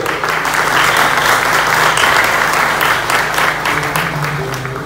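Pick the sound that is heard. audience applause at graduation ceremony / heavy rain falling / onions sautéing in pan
audience applause at graduation ceremony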